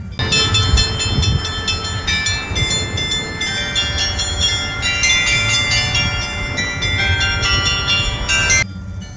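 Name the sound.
bells playing music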